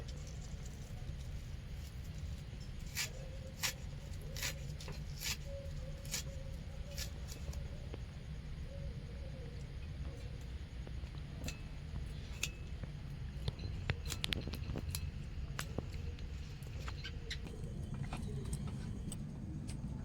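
Spring onion leaves are chopped into small pieces on a kitchen board for chili chicken, giving faint, quiet clicks and cuts in irregular bursts against low background hum.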